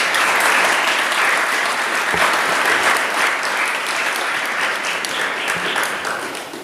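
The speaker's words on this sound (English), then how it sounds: "May we please give them a round of applause." Loud, sustained applause from a large crowd at a senior school prizegiving, steady clapping filling the room without pause.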